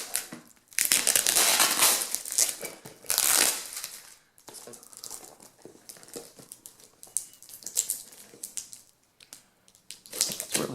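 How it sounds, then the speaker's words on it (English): Trail camera packaging wrapped in sticky tape is pulled apart by hand in close, irregular bursts of crinkling, tearing and crumpling, with quiet pauses between. "it's like it's wrapped in a sticky tape. So it's a little awkward as far as getting into"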